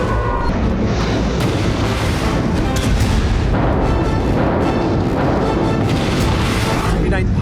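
Missile strikes in war-torn Kharkiv, Ukraine, produce heavy, continuous booming and rumbling blasts in dense succession, loud and close, with a voice talking over them.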